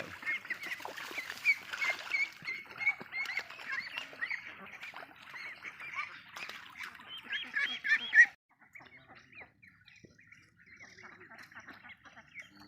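A flock of laying ducks, including Barbary ducks, quacks and honks busily and continuously nearby on a cold morning, then the calls thin out and grow quieter.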